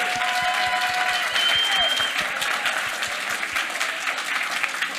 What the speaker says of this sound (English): So can we first have a round of applause for our amazing panelists?